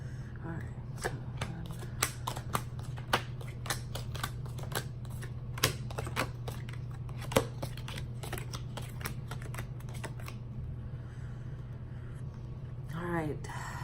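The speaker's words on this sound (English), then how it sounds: "So let me shuffle one more time." Rapid crisp clicks and riffles of tarot cards being shuffled, several bursts in a row over a steady low hum, with a final fluttering riffle at the end.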